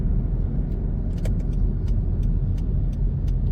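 Road traffic in Vientiane, Laos, near the airport road during a jam, gives a steady low rumble of car engines and tyres, with faint clicks and rattles over the continuous drone.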